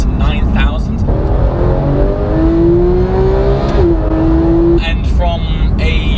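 A Porsche GT3's naturally aspirated 3.8-litre flat six revs hard and close, its pitch climbing steadily, dipping briefly, then climbing again under a loud in-car drone, with a voice speaking at the start and end.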